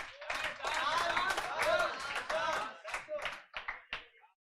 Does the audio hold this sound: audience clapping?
yes